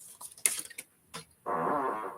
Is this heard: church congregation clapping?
no